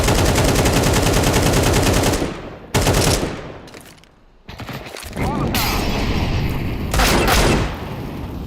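Tactical shooter match with a flashbang grenade thrown: loud continuous gunfire-like bursts and sharp blasts, broken by brief gaps and a quieter stretch, then renewed loud bangs.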